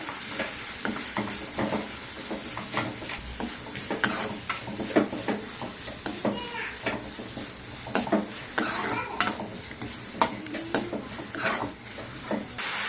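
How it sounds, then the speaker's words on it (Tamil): Onion and tomato with turmeric and salt sauté in a pan under a soft sizzle, punctuated by repeated clinks and scrapes of a spoon stirring against the metal. "கொஞ்சம் மஞ்சத்தூள் போட்டுக்கோங்க கொஞ்சம் உப்பு போட்டுக்கோங்க நல்லா இப்போ வதக்கிக்கலாம்"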